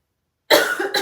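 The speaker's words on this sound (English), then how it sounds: "When I turned my head to the side to cough" After a moment of silence, a single loud, close cough bursts out, followed by a short second cough.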